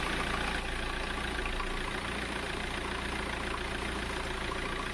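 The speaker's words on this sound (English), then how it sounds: "It's making a lot of noise. It's a diesel, so it's normal." A BMW E36 diesel engine idles after a cold start, a steady, loud, continuous low rumble with a faint rhythmic clatter that holds evenly throughout, with no talking.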